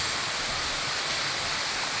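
A waterfall at Wat Than Nam Tok in Pak Chong roars as a steady, dense rush of falling water, loud and unbroken throughout.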